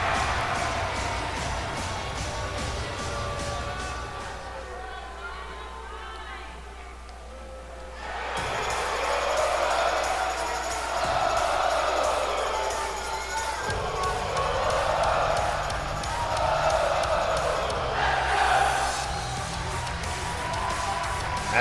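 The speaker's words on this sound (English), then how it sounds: "the crowd sings along to this man's theme song, Sami Zayn." A wrestling arena crowd chants and sings along in unison to Sami Zayn's entrance theme at an NXT show, rising waves of massed voices over loud music, distant and reverberant.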